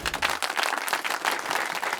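Audience applause welcoming a school quiz team as it is introduced, dense steady clapping filling the whole stretch, loud and close with no voices over it.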